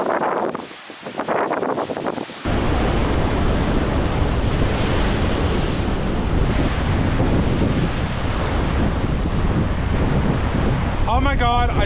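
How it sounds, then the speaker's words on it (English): Ocean surf surging and washing over rocks at Swansea, a loud, continuous roar of breaking water with wind buffeting the microphone, after a quieter opening stretch with a voice; a person's voice returns briefly at the end. "a lot of water crosses over the rocks"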